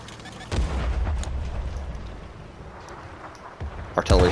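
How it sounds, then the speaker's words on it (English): Artillery fire in the World of Tanks console game, with an SU-101 in the battle: deep booming blasts, one loud near shot early, then rumbling and two more heavy bangs close together at the end. "Artillery's firing."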